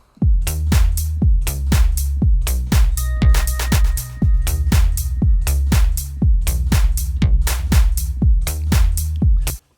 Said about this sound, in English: This is kind of a splashing hi-hat.